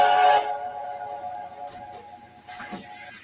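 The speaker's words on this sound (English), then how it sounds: "And alternate whistle." A short steam locomotive whistle blast for the narrow-gauge engine Skarloey, a brief bright tone sounding near and loud, then fading into faint background murmurs.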